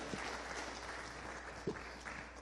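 Faint scattered applause from a small group, soft clapping spread across a couple of seconds.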